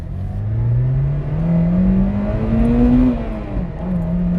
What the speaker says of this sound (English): Little pop from the exhaust